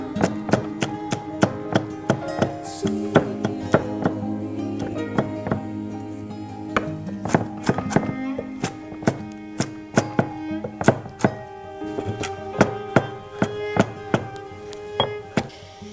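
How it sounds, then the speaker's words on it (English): A knife chops cabbage and pak choy on a board for raw fermented sauerkraut, with many sharp, fairly regular chops close by and brief pauses between bursts; no talking. "it looks like I'm going to have to chop some more"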